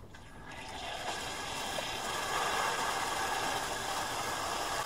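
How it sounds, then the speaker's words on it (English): A shallow well pump, unused for a year, is drained at its pressure tank, giving a steady, loud rushing hiss of escaping water and air that swells slightly and holds for about five seconds. "This is releasing all the pressure"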